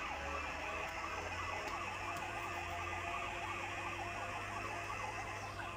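A police car siren wails steadily in a bike racing video game, its rising and falling tone repeating without pause over a constant low engine drone, loud and close throughout with no talking.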